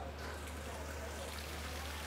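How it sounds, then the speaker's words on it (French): Pool waterfall cascade aboard the ISA Classic 65 superyacht, a steady, loud broadband rush of falling water filling the whole clip with no pauses. "On a une véritable cascade sur la piscine. Ça fait un peu de bruit"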